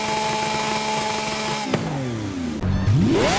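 A Lamborghini Aventador SV in Forza Horizon 5 revs hard, holding a buzzing high note at the rev limiter before the revs drop away, then swells again in a rising sweep, with no talking.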